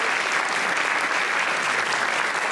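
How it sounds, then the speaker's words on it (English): A lecture audience at a biomimetic dentistry talk breaks into dense, loud applause, a continuous roar of many hands clapping at an even level from start to finish. "So let's give him a round of applause."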